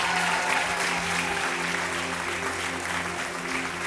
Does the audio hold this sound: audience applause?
yes